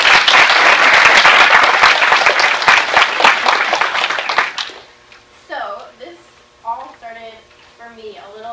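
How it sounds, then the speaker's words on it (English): Loud, dense audience applause from a crowd at a talk on positive body image, sustained for about four and a half seconds before cutting off abruptly, followed by someone speaking. "So another round of applause for her."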